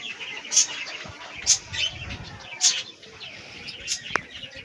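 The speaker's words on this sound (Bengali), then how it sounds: "দেখো খালি পায়রাগুলো হাইট নিয়েছে, দেখো" A flock of pigeons lifts off together, giving several soft bursts of wing flutter with scattered coos and chirps, fairly faint against outdoor background noise.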